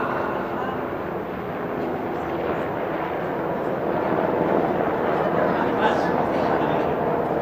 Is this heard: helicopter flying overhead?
yes